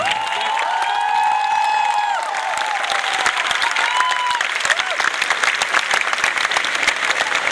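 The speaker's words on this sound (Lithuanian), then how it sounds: "labai daug plojimų ir šūksnių" An audience at a live concert applauds and cheers loudly: dense, continuous clapping with whoops and shouts rising over it, steady from start to finish.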